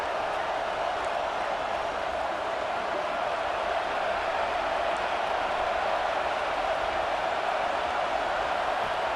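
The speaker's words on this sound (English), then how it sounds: "this crowd imploring its defense to stand firm" A stadium crowd roars in the College Football 26 video game, a broad, steady wash of distant cheering that holds at an even level for the whole stretch with no clear voices.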